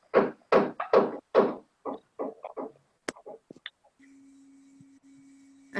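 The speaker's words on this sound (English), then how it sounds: "Someone's knocking." Knocking on a door, a burst of about four loud, close raps followed by a few softer, quicker taps, then quiet with a faint steady hum.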